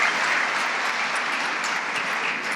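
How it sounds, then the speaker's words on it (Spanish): A church congregation applauds continuously, a dense, steady wash of clapping filling the whole moment with no speech. "Dile un aplauso al Señor por eso, hermano."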